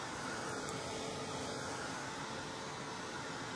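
Electric heated craft tool blowing hot air to dry paint on a wooden pumpkin, a steady soft broadband whoosh that stays even and close throughout with no other sounds.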